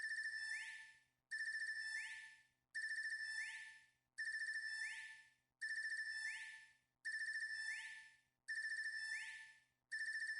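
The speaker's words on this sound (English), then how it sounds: "Ring! Your phone's ringing!" Phone ringtone in the video game Trails of Cold Steel III, a bright electronic ring repeating eight times at an even pace, each burst fading before the next, with nothing else heard.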